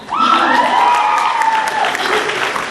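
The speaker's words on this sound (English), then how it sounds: "You can clap for that." Loud applause from a San Diego Comic-Con 2011 panel audience, steady clapping that fills the whole moment with a voice faintly audible over it.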